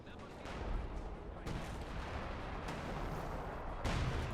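Artillery bombarding a base in Company of Heroes 2: a dense, continuous rumble of distant shelling and gunfire with a few heavier thumps standing out, a voice talking over it throughout.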